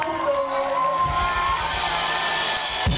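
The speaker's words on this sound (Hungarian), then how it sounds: "Kísérje a bevonulását, nagy taps!" At a Valentine's Day show, the audience applauds and cheers as a singer walks on. A steady wash of crowd noise runs under tonal music for three seconds.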